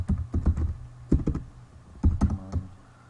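Keys clatter on a computer keyboard in short clusters of taps with brief pauses between, close and fairly crisp, with no voices.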